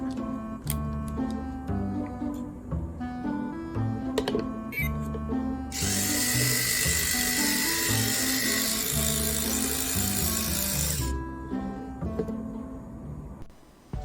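A small vacuum cleaner motor built from a Neobot robot kit switches on and runs with a loud, steady whir for about five seconds, then stops, over a background of continuous music.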